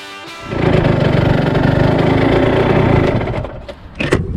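A small engine on an Italian go-kart revs loudly and steadily for about three seconds as the throttle is twisted, then drops off abruptly, leaving quieter clunks.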